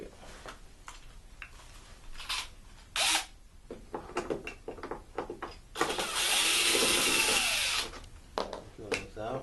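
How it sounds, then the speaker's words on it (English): A power drill whirs in short bursts while drilling out screws on a Bissell ProHeat carpet cleaner, nearby and fairly loud, with one longer sustained run near the end. "Drill this out."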